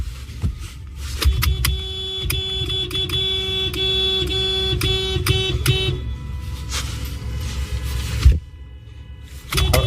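Vehicle horns honking repeatedly at a street protest, short and sustained blasts stacking over steady traffic noise, loud and close, with no talking.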